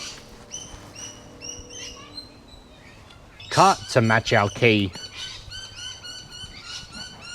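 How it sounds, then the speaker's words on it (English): Wild birds chirp and whistle outdoors near a Nissan R33 car project, bright repeated calls running throughout, with one louder burst of squawking calls in the middle while someone talks briefly. "These birds are having a field day, eh?"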